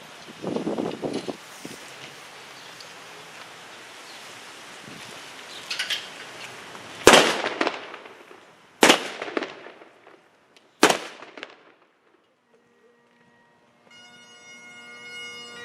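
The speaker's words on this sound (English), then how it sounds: "have the firing detail fire a volley. Detail, fire volley." A firing detail at an outdoor memorial service fires three sharp, loud rifle volleys about two seconds apart, with crowd rustle and outdoor ambience around them and a faint tonal sound rising afterward.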